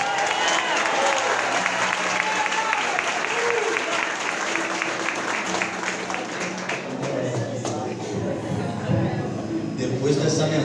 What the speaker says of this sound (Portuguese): Quero pedir palmas para Jesus.